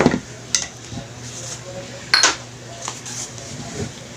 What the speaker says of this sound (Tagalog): So, takpan natin para makikita natin lumambot yung mga gulay.